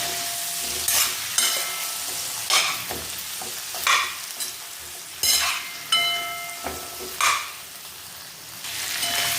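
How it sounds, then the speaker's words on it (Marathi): Corn sautéing with chili flakes in a pan for a spicy corn masala, a steady sizzle broken by several louder stirring bursts as the spoon scrapes and turns the kernels, close and with no voices. "चिली फ्लेक्स, छान परतून घ्यायचं आहे."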